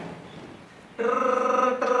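A mobile phone starts ringing partway through, a steady electronic ringtone with layered tones that comes in abruptly over a dim room background and briefly dips before carrying on.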